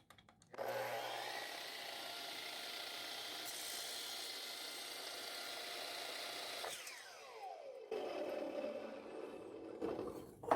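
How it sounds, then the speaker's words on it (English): A miter saw cuts through a wood 2x4, with a motor whine spinning up, a steady buzzing cut, then the blade winding down, followed by a second short burst and clatter, all close and fairly quiet. "the quickest, easiest way is to do it on a miter saw"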